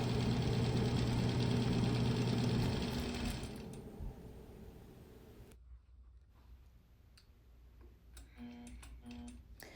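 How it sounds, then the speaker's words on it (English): A sewing machine runs steadily for a few seconds while ditch quilting around triangles, then slows and falls quiet, followed by softer clicks and a couple of short whirring stitch bursts near the end. "I'm ditch quilting around the triangles"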